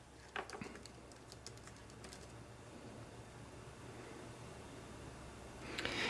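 Soft, faint keystrokes on a Surface Pro keyboard tap in a short burst near the start, then fade under a low steady hiss.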